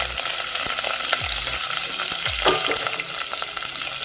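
Grated ginger and curry leaves fry in hot oil for venn pongal, giving a loud, constant sizzle with close crackling and a few spoon scrapes against the pan.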